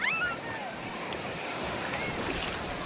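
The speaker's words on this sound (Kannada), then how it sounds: "ದೊಡ್ಡ ಅಲೆ ಬರ್ತಾ ಇದೆ." Big sea waves at Malpe beach roll in as a steady, soft wash of surf with wind noise, fairly faint and distant, and a faint voice briefly in the background.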